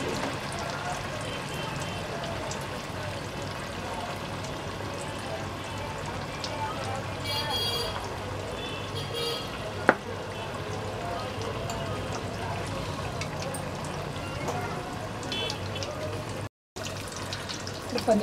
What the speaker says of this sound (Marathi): सगळे पनीर तळून घ्यायचे आपल्याला असे.